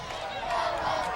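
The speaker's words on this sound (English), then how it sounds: "this crowd is, pardon this cliche," A high school football game crowd roars loudly late in a playoff game, a dense, sustained wash of cheering voices that swells slightly toward the end.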